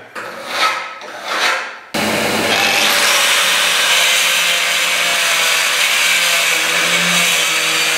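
Angle grinder cutting through a solid masonry partition wall, a loud continuous abrasive whine and rasp that starts abruptly after a couple of brief scraping strokes and runs steadily close up to the end.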